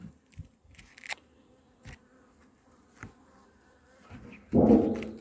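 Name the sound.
honeybee foragers buzzing around a beehive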